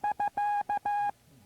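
Morse code procedural signal SK, ending a contact, is sent as clean, steady beeping tones at a single pitch in a short sequence of short and long elements, heard alone and fairly quiet.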